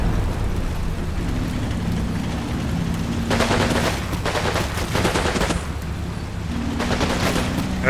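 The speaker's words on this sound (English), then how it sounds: "That's a heavy machine gun team" Heavy machine gun fire in the Combat Mission: Final Blitzkrieg war game, with dense sustained bursts of rapid shots that come and go over a constant loud battlefield rumble.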